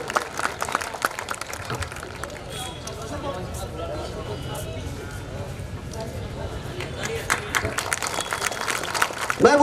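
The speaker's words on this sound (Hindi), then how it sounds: "तालियों से बच्चियों का स्वागत करे" Applause welcoming young schoolgirls at a community youth association event in India, a loose spread of clapping from a gathered audience, moderately loud and uneven, rising again toward the end.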